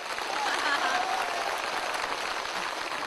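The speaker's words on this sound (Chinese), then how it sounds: "掌声快" A studio audience at a Chinese television talent show gives sustained, dense applause that stays even and loud throughout.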